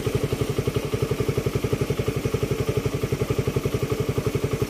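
A motorcycle engine runs with a steady, rapid pulsing beat and some mechanical clatter, holding an even rhythm for several seconds without any voices over it.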